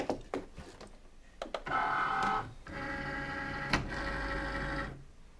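A Cricut cutting machine fitted with an engraving tool loads its mat, with a few quick clicks followed by a steady motorized whirring and mechanical hum that rises and changes pitch, close and alone.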